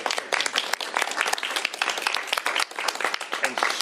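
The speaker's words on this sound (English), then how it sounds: "Give her a round of applause for her hard work on this legislation." Audience at a governor's bill signing claps for a state senator, a lively burst of many hands close by and fairly loud, with speech faintly mixed in.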